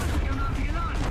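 The main gun of a Jagdpanzer 38t Hetzer tank destroyer fires in War Thunder, a loud, dense blast rumble filling the whole short moment, heavy and close with low booming weight.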